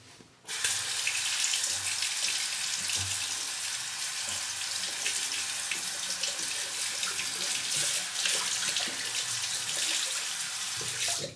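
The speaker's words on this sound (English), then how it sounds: "Water pressure is not as strong here as it is at home. It takes a little longer to rinse." A tap runs in a steady, even stream into a sink for rinsing after a shave, a constant close hiss from start to finish with a slight variation in flow.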